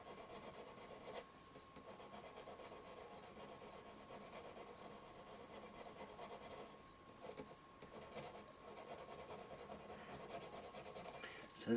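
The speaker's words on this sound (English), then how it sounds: "So this is just a sanding stick." Close, steady scraping of a sanding stick on a Jackson DK2 guitar, a dry rasping texture that runs continuously with small swells and dips in intensity.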